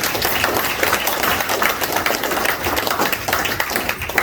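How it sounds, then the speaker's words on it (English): Audience at a real estate investing talk giving a round of applause, continuous crisp clapping from many hands, steady and fairly close. "So let's give a round of applause for owning a bank."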